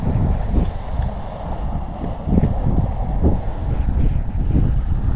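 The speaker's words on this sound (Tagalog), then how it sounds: "So malakas yung hangin mga kalipad." Strong wind roars and buffets steadily at close range, a continuous loud low rumble, during a flight of a DJI Mini 4 Pro drone at around 40 to 45 meters.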